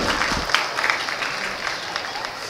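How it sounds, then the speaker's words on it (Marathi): A crowd claps at a year-end cultural celebration in Talegaon, loud sustained applause with scattered sharp claps and faint crowd murmur throughout. "जोरदार टाळ्या वाजवून आपण आनंद व्यक्त करूयात"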